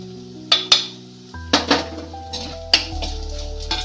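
Ground spice powders, chilli, coriander, fenugreek and turmeric, tipped into hot oil in a pot for Kerala-style rasam, with a few sharp utensil clinks and scrapes over a steady close sizzle.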